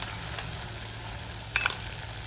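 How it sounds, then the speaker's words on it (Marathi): Ground spice paste for a traditional Khandeshi curry fries in hot oil in a wok with a continuous, moderately loud sizzle; a brief clatter of stirring rises near the end, with no voices. "यामध्ये मी तयार केलेले रश्श्यासाठी लागणारे वाटण टाकणार आहे आणि ते चांगले परतून घेणार आहे."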